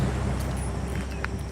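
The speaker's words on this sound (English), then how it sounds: "I just know when cars are going by, it gets loud." Cars pass along a road heard from a pedestrian's walk, a steady low rumble of traffic that holds moderately loud and even throughout the short stretch, with no voices.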